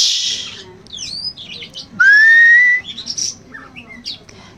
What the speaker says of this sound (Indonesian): jadi lebih enak tuh burung rewik begini, seneng saya